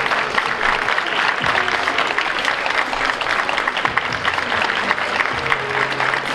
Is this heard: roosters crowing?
no